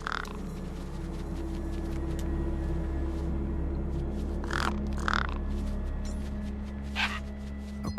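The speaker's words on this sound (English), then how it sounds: "No way I was going to get between those birds and their feast." Crows cawing over a feast in the video game Beyond a Steel Sky, several harsh calls scattered across a steady low hum, a few close together, fairly near.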